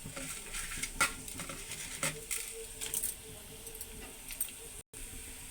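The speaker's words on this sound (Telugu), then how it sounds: "మినపప్పు, శనగపప్పు 2 నిమిషాల పాటు ఏగాలి" Urad dal and chana dal fry in a pan with garlic, cumin and mustard seeds for a coconut chutney, making a soft crackling sizzle broken by several stirring clinks and scrapes.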